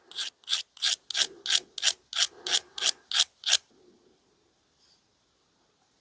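A vintage Keen Kutter pocket knife blade is sharpened with about eleven crisp, evenly spaced scraping strokes close by, followed by near silence.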